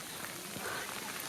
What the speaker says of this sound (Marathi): पाऊस पाऊस पाऊस नुसता पाऊस आहे